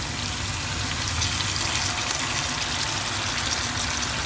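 Sauce poured over chicken chilli frying in a pan brings a loud, dense, unbroken sizzle and bubbling hiss close by, with no one speaking.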